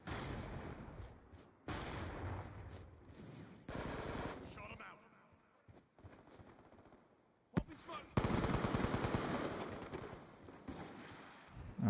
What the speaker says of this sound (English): shooting through the smoke